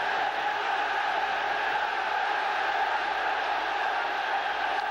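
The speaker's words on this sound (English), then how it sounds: "just listen to how the crowd have responded to that." A 1996-97 Champions League crowd at Manchester United vs Fenerbahçe reacts after a shot drifts just wide of the post, a steady, distant stadium roar that stays level throughout.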